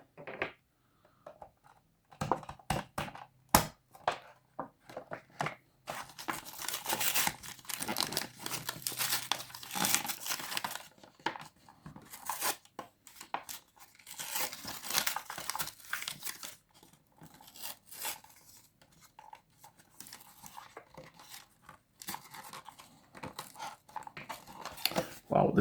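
Scale model car, a 1/43 Altaya Matra MS10 Formula 1 racer, being cut free of its plastic packaging: close, irregular crinkling, tearing and snipping in bursts throughout, with a person talking intermittently over it.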